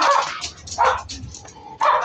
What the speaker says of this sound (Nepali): यो कुकुर अघिदेखि भुकिरहेको छ क्या।